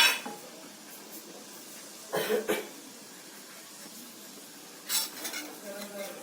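Bombay halwa mixture with ghee being stirred in a pan, a faint background bubbling hiss broken by a few short scraping strokes, close by and alone.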